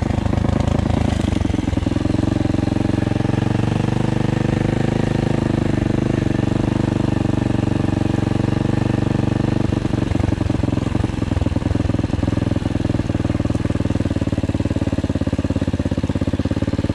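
Loncin 110/125 enduro motorcycle engine running off-road, a steady loud mid-pitched drone that holds throughout, with slight wavering and roughness toward the end.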